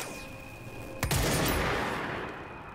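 In a video game, a short burst of gunfire aimed at an enemy cracks out once near the middle, followed by a fading rumble over a low background hum.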